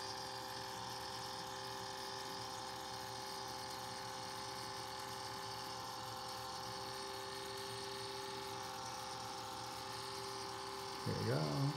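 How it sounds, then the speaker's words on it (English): A motorized display turntable rotates a rare resin Tinker Bell fairy statue, giving a steady, even mechanical hum with a faint whirring drone throughout, then a brief louder bump and rustle near the end. "I'm gonna start the machine rolling. Get this turntable going."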